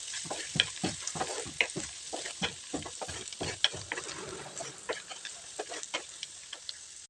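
Peanuts sautéing in oil in a pan, sizzling with frequent sharp scraping and tossing strokes from a spatula, close and fairly quiet, the stirring thinning toward the end.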